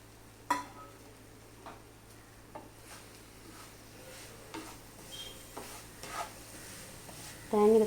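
Grated coconut is stirred in a frying pan, with a spoon scraping and tapping against the pan in scattered strokes over a quiet sizzle and a louder clatter at the end.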